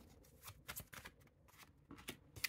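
Tarot cards being shuffled by hand, a few quick soft riffling bursts in an irregular rhythm, close and quiet with no talking.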